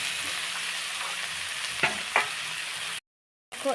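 Boiled jackfruit fries in a pan with a steady close sizzle and two sharp scrapes of stirring, cut by half a second of silence near the end.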